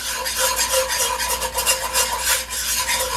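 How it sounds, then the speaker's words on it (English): A small whisk beats in a deep pan, making rapid rhythmic metallic scraping strokes that repeat steadily and sound close. "this little whisk that I have, it's a small one and my pan's deep, so it gets a little tough sometimes"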